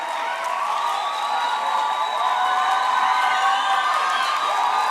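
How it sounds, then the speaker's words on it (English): Festival crowd at the official opening of the National Arts Festival clapping and cheering continuously as performers walk on stage, a dense, steady wash of applause with scattered whoops. "Can we clap hands for them as they take the stage?"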